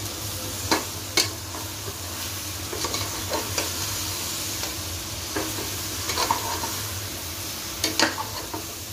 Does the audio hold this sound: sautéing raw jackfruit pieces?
yes